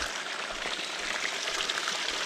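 Water gushing at full flow from a pump hose into a gold-panning setup outdoors, a steady, close hissing splash with no pauses and no talking.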